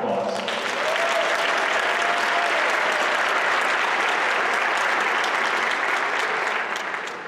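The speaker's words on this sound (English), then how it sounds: "a round of applause" Sustained applause from a large crowd, dense and steady throughout, fading slightly at the very end.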